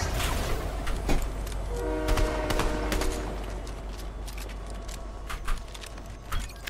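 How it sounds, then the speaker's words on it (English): Fortnite train in a ranked match rolling past with a rumbling low drone, a short horn-like tonal note midway, and scattered clicks and game effects layered over the top. "I'm getting on the train"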